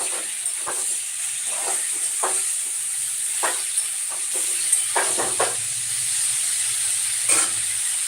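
Jackfruit sizzles steadily in a hot pan while a utensil scrapes and clatters against it in short, irregular stirring strokes.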